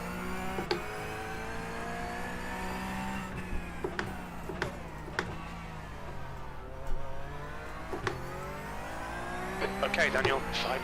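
Porsche Cup race car approaching on the Nürburgring GP circuit in the iRacing sim, heard as a steady engine drone that rises and falls under faint clicks and brief knocks, close and continuous without talk.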